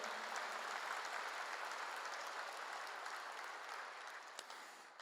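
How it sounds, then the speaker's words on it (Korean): A church congregation claps together during a sermon, a soft, steady wash of many hands heard at a distance, holding evenly before fading slightly at the end. "박수를 하세요"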